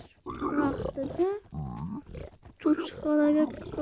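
A pig in the Minecraft video game, a few loud close grunts and oinks in short bursts with pauses between them.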